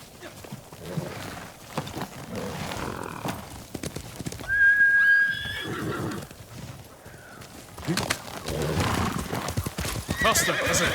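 In the Ghost of Tsushima video game, a horse gallops with rapid clip-clop hoofbeats and gives a sharp whinny midway, the hooves carrying on loudly around it.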